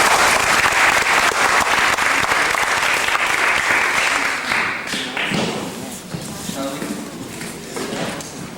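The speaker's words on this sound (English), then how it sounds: "So you guys can give them a round of applause." An audience at a symposium gives a dense round of applause that runs strong for several seconds, then fades into lighter scattered claps with voices murmuring over it.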